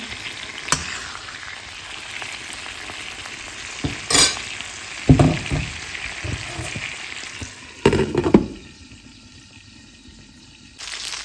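Stuffed eggplants sizzle steadily in a wok, broken by several sharp clatters of a spatula turning them and brief splashes of water near the end.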